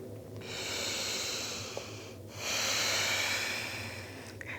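Slow, deep nasal breaths during a yoga session, a long inhale followed by a long exhale, close and soft, with a faint snort-like rush at the end of each breath.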